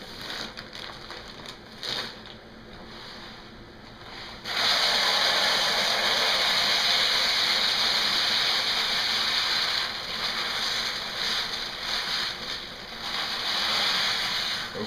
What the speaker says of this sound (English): I'm going to pour half the rice in.